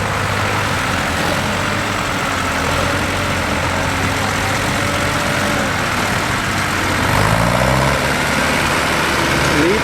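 A tractor engine runs steadily at idle in the open, a low continuous rumble that swells slightly near the end, with no talk.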